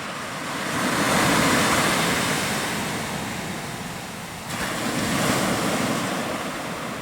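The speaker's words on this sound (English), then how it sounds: "Nothing like the sound of the sea." Sea waves at sunset surge and wash in a broad, steady roar that swells and eases, with wind buffeting the microphone and no voices.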